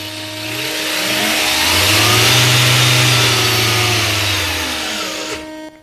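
Electric motor of a MEGA RC Rock Viper crawler, a radio-controlled rock crawler, revs up to a steady high-pitched whine, holds it, then winds down; the sound is close and loud with no talking.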